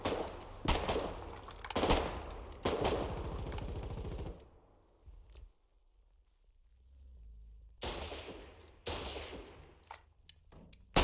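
In a war video game, loud bursts of gunfire hit close and hard, rapid rattling volleys, then a quiet lull with a faint low rumble before more sharp shots ring out.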